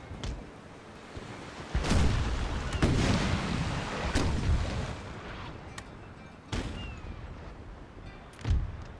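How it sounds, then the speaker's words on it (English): Napoleon Total War naval battle, ships' cannons firing broadsides at an enemy ship's sails: repeated heavy booming shots at irregular intervals, some close and loud, others more distant, over a continuous rumbling battle backdrop. "I've got 3 ships on either side of him, firing at his sails"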